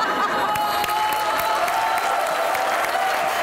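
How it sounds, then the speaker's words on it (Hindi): Studio audience applause from a comedy talk show, a steady wash of clapping and light crowd noise that fills the whole short stretch at moderate loudness, with no speech over it. "तालियां होनी चाहिए, तालियां होनी"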